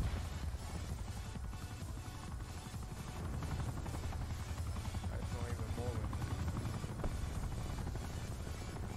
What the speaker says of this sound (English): Chopper's not even doing anything.